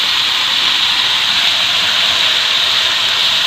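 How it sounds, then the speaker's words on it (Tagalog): A loud, steady broadband hiss and sizzle fills the whole stretch as squash and string beans hit a hot cooking pot for ginataang kalabasa, with no talking and no break in the rushing sound. "At ihulog po natin ang kalabasa at sitaw."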